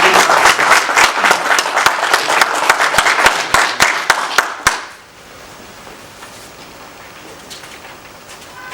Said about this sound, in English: I think we should perhaps all join in and applaud their efforts